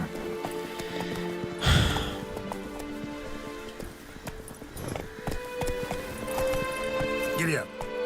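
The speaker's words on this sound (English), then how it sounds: "Giddy up. Not so fast, Roach." Hoofbeats of Roach, the horse in The Witcher 3 game, clip-clopping along at a steady pace with a louder thud near the start, under game music and someone talking.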